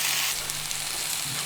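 Steady sizzle of chicken frying on a hot plate with a broad hiss, constant and close, no voices over it.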